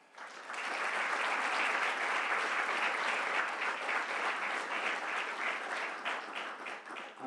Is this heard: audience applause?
yes